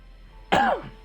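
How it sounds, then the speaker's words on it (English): One short, loud throat clearing from a man starting a livestream, a single gruff burst heard close up and alone. "Got to start with coughing."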